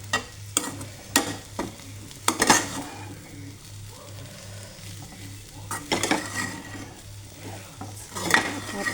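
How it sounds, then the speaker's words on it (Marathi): Soda poha is stirred in a pan with a slotted spoon, giving a low sizzle and a series of sharp metallic taps and scrapes against the pan. The taps cluster at irregular moments, close and clear, with a low steady hum underneath. "झाऱ्याचा वापर करते नेहमीच पोहे बनवताना, कारण झाऱ्याने छान असं मिक्स करता येतं म्हणून."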